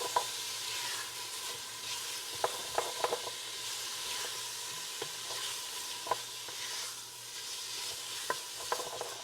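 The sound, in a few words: stirring baked bean sauce in a pan with an olive-wood spurtle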